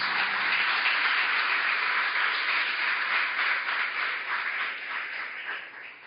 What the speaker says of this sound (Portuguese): Aplauda com força a palavra de Deus.